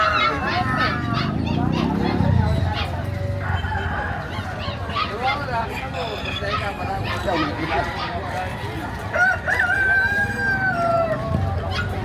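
A rooster crows amid a noisy crowd at a market where chickens are sold, with people talking loudly over it and a dog barking now and then.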